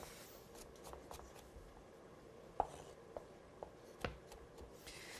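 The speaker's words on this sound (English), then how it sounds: "Chop a little bit more garlic." A knife chops garlic on a cutting board in a home kitchen, with a few faint, scattered taps over a quiet background. No one speaks.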